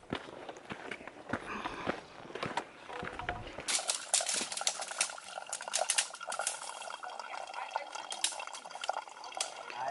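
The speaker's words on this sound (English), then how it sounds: "This is the sound of 3 liters of water I just schlepped up a bloody mountain again." Three liters of water sloshing in containers carried on a mountain climb along the Pacific Crest Trail, heard as close, irregular splashing mixed with steady rustling steps that grows busier after a few seconds.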